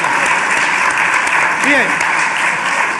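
Applause from a live audience fills the space as a dense, steady wash of clapping, with a brief spoken word and some vocal sounds rising over it.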